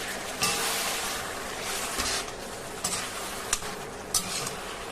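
Onions sizzle in a pan after mustard paste goes in, a dense continuous frying hiss with a few sharp clicks of a utensil against the pan, close and steady throughout.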